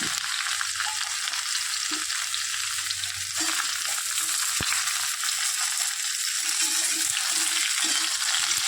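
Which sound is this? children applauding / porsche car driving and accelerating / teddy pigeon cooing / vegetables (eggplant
vegetables (eggplant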